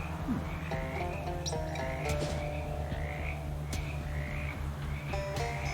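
Frogs croak in the Shadows Over Loathing video game, repeated rhythmic croaks at a steady pace, close and fairly loud over a low musical drone.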